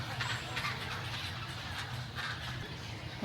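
Baby birds at a Florida alligator farm rookery, a busy chorus of chirps and squawks from the trees overhead, moderately distant under faint background murmur.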